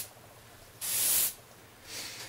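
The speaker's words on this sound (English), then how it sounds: "How you're going to spray your cube is a lot like the same way you would spray paint a miniature" Lubricant sprayed from an aerosol can onto a Rubik's cube in sweeping passes: one loud hissing burst of about half a second, then a fainter second spray shortly after, in an otherwise quiet room.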